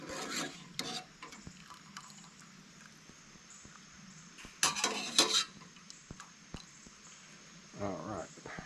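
Tortellini pasta tumbling into a pan on a camp stove, heat turned off, with scattered clinks and scraping of utensil on metal, a louder rattling burst midway and soft rustling at the end.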